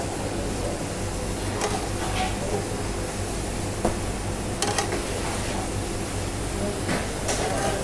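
A pan of pistachio cream sauce with butter and thyme sizzles steadily as it is poured over Italian-style chicken, a dense close hiss with a few scraping clinks of a utensil stirring through it.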